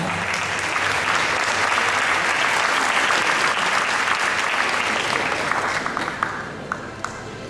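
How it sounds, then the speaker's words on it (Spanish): Loud, dense applause from a crowd at a civil engineering association ceremony celebrating a member's fifty years of professional practice, holding strong before tapering off near the end. "Por favor, lo recibimos con cálido aplauso."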